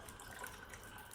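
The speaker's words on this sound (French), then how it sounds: "je vais récupérer un petit peu d'eau" Water being scooped and poured from a sealed transport bag while unboxing corals, a soft continuous splashing and trickle, close and steady.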